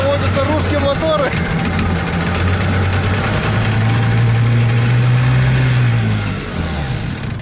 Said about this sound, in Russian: Так вот заводятся русские моторы.